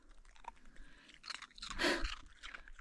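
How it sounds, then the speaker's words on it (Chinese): Ice cubes are crunched and chewed close to the mouth in a quiet outdoor spot on the high plateau, giving irregular crisp cracks and grinding bites, the loudest crunch near the middle. "嚼得咯吱咯吱的，当骨头嚼"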